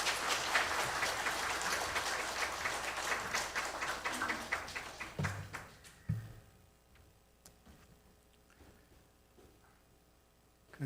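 A church congregation claps in welcome for a guest speaker at a Sunday worship service, dense applause that fades out midway, leaving scattered faint taps and a quiet room.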